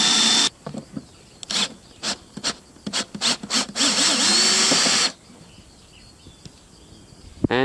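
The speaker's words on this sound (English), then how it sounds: "We're gonna use a drill. We're gonna drill a little bit through the nut." A power drill runs in short bursts and then a sustained grind through a metal nut around a damaged screw, with irregular starts and stops, close by, before cutting off into quiet.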